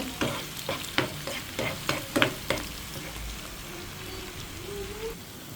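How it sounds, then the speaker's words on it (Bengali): Chopped onion and chili frying in a home kitchen pan, sharp rhythmic stirring scrapes over a soft continuous sizzle, the stirring stopping partway while the frying carries on alone. "মরিচের পেঁয়াজটা ভেজে নিচ্ছি"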